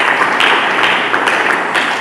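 A church congregation claps and applauds for Jesus Christ, a dense, steady wash of hand claps filling a large room, heard from within the crowd.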